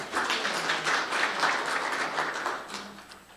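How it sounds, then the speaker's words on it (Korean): An audience at a Korean environmental policy forum claps to welcome a presenter from the Ministry of Environment, a fairly loud burst of many hands that gradually tapers off toward the end. "박수로 맞아주시기 바랍니다"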